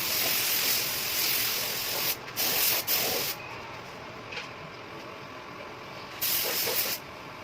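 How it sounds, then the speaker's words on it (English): Steady broadband hiss of a spray gun laying down an anti-corrosion coat on a Vespa, in several bursts of a second or two, with quieter gaps between passes. "I prefer to spray 2 full coats of anti-corrosion."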